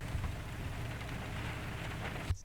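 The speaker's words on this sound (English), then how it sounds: "Here's the rain audio for you." Soft, steady patter of rain on a surface, continuous and even, cutting off abruptly near the end.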